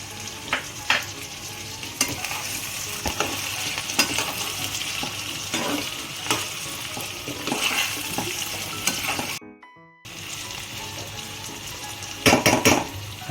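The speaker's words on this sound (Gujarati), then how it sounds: "હવે આમાં જે 3 મરચાં સમારીને રાખ્યા છે એ પણ નાખી દઈશું અને ફ્રોઝનવાળા વટાણા નાખી દઈશું લીલા" Chopped green chilies and frozen green peas frying in a pan for jowar upma, with a steady close sizzle and repeated clinks and scrapes of a spoon stirring against the pan.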